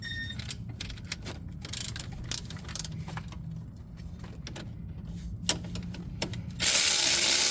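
Hand ratchet clicking close-up while loosening two 10mm bolts on the wastegate of a 2021 Can-Am X3, with quick bursts of pawl clicks between pauses and a loud rush of noise at the end.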